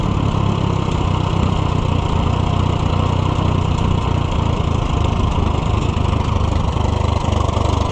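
A vintage Case VAC tractor engine runs steadily for the whole stretch, a loud, even, close-up chug with a low throbbing rhythm, sounding slightly rough as if flooding out.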